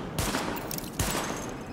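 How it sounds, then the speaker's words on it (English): Gunfire at highlighted targets in the video game The Division comes as two short bursts of rapid shots, close and loud, with a brief gap between them. "Open fire at the highlighted targets."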